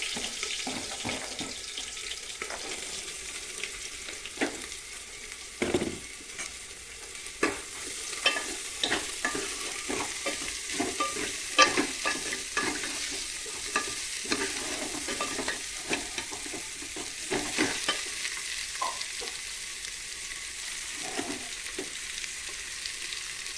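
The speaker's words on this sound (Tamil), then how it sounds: "கொஞ்சம் காய் நல்லா வதங்கணும்." Bitter gourd sautéing in oil in a pan for a traditional Kongu-style pavakkai kulambu, with a steady close sizzle and frequent scrapes and clatters of stirring, continuous with no talk.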